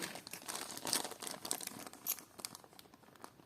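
Light crinkling and rustling of a small plastic packet close by during jewelry unboxing, a run of crisp irregular crackles with no voices.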